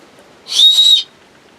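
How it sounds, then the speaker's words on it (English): A single short, shrill blast from a small survival whistle, about half a second long, loud and close, with quiet background before and after. "So you unscrew it, and you got a whistle."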